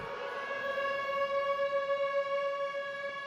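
A prison siren at Alcatraz sounds as a loud, steady, sustained wailing tone with a faint wavering, playing alone without any voices.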